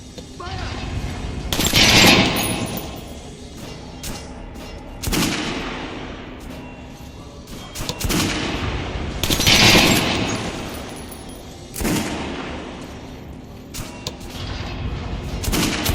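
Volleys of gunfire in Metro Last Light, several loud bursts of shots with sharp cracks and booming tails, spaced a few seconds apart, with shouting voices in between.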